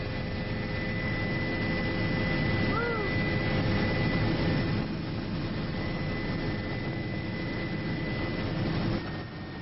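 Steady droning cabin roar of a helicopter flying over Niagara Falls, heard from the front seat, constant and loud with a low engine hum and a brief faint tonal chirp, no talk.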